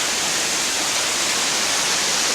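Steady, loud roar of Holtwood Falls, water pouring over rock in a series of drops, heard up close as an unbroken broadband rush.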